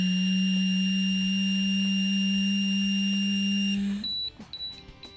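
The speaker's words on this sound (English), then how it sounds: "When the interlock sound changes from a rapid beep to a solid tone" A breath alcohol interlock device sounds a steady, loud, continuous tone for about four seconds, then switches to a few short, higher beeps.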